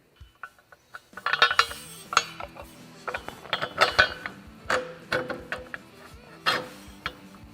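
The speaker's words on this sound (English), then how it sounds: "We'll go ahead and get our bolts slid through here." Metal bolts are slid and fitted through a Polaris RZR Pro XP frame while mounting a SuperATV rear bumper, giving close, irregular clinks, scrapes and rattles of metal on metal.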